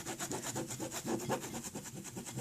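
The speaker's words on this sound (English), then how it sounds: "So I get my scraper, my Lolly Buffy scraper, and I kind of just loosen everything like this." A scraper is worked back and forth over dried acrylic pour paint, making a steady, fast rasping scrape with a rhythmic, gritty texture, close and fairly quiet, with no talk.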